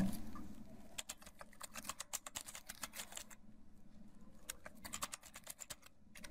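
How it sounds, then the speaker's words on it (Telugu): Rapid keyboard typing in bursts of clicks, steady and close, with a brief pause midway before the tapping resumes. "ఇప్పుడు చూడండి నేను మామూలుగా మ్యాటర్ టైప్ చేస్తున్నాను"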